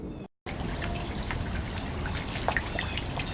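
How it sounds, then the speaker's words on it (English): Steady rain patters and drips on a rainy morning, with scattered sharper drops over a constant wash of falling water, close and moderately loud after a brief silent gap at the start. "It's a rainy morning."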